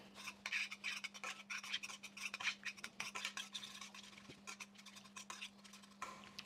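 A spoon stirs chicken scallopini in mushroom sauce with Romano cheese melting in the pan, making soft, continuous scraping and rubbing against the cookware, faint and close with no talking.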